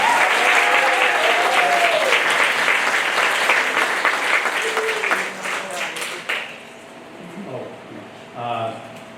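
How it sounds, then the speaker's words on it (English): Audience applause for honorees at an annual meeting banquet, loud sustained clapping from a large room with voices mixed in, tapering off after several seconds into murmurs and scattered talk. "another round of applause for all our honorees"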